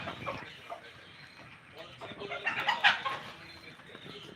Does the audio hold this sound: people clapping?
no